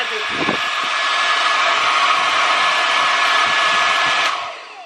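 A portable hair dryer runs on its second speed, a loud, steady close-up whoosh of blowing air that holds evenly for a few seconds and then begins to wind down.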